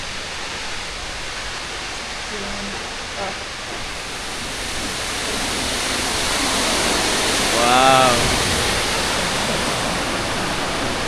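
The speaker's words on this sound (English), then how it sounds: "Very big waterfall." The large Materuni Waterfalls pour with a dense, steady roaring rush, loud and continuous throughout, while a person briefly exclaims over it.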